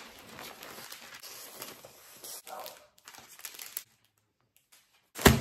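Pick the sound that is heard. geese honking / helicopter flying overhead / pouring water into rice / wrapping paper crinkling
wrapping paper crinkling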